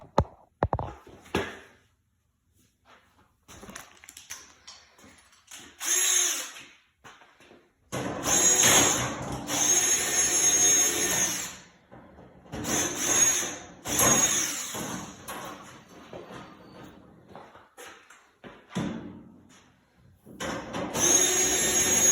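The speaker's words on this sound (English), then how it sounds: "So I'm gonna do the nut driver first, take off the front." A power drill fitted with a nut driver spins out bolts from a Tuff Stuff PS-245 functional trainer, whirring in several bursts of a few seconds each with quiet gaps and handling clatter between them.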